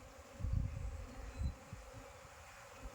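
Aggressive Apis cerana honeybees buzzing while their colony is moved into a box, a low droning hum that swells in two close bursts and then settles into a fainter, steady buzz.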